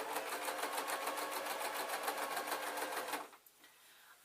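A sewing machine, running warm after heavy use, stitches a beaded clutch bag with a fast, even rattle of needle strokes for about three seconds, then stops abruptly and leaves near silence.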